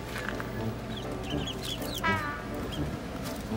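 Chickens cluck softly and intermittently over a steady background hum, with brief higher squawks from the flock.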